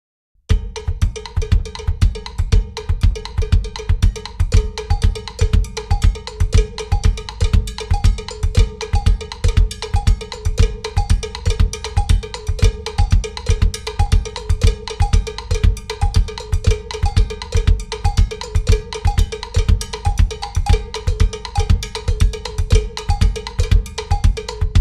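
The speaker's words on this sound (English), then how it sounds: "I'm going to throw flams in on those cowbell notes where the 2 hands fall together" Loud, close cowbell plays a fast, steady Mozambique pattern with flams on the notes where both hands strike together, continuing evenly throughout without any voices.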